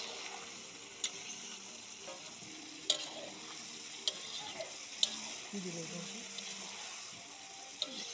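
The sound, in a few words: meat stirred in a pan with chili, cumin, coriander powder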